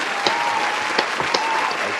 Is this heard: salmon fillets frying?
no